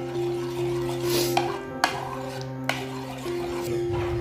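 Cumin and salt being stirred into a bowl of raita, with a steady soft scraping of a spoon through the yogurt and a few sharp clinks against the bowl, all close by.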